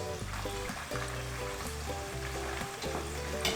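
Pork pieces for crispy pata deep-frying in oil, a continuous crackling sizzle that stays fairly quiet beneath loud background music.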